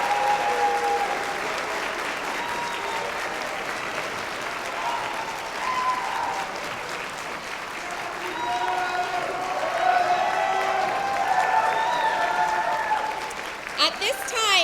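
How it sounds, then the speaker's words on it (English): An audience at a commencement ceremony breaks into sustained applause for new second lieutenants, steady clapping from a large crowd that continues throughout, with some voices and cheers mixed in. "please join me in a round of applause for our new second lieutenants."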